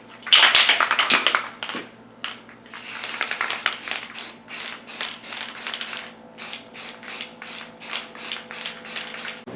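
Spray gun applying wrinkle-finish coating to a sandblasted aluminum car part, a dense opening burst followed by a long run of short, rhythmic hissing passes, fairly close and with no voices.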